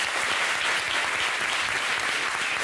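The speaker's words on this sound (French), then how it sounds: "Applaudissements pour elle." Loud, dense applause from a television studio audience fills the clip steadily from start to finish, with no one speaking over it.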